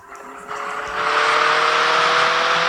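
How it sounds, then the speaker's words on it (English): In the driving game City Car Driving, a car engine rises from a low idle into a loud, sustained roar as the revs climb and hold steady. "Listen to that engine roar"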